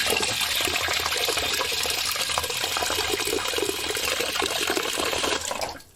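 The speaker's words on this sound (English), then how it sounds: "we actually built in a little faucet up here so that we could fill" Water running from a small faucet built into a converted bus, filling the top of a gravity-fed water filter: a steady, close, loud hiss of pouring water that continues evenly, then cuts off at the end.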